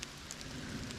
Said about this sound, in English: Still raining now, but not quite as bad as it was.